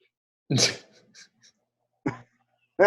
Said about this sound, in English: As I sneeze.